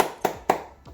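Three sharp hand claps spaced about a quarter second apart, close and dry, the last one softer, after a watermelon tasting.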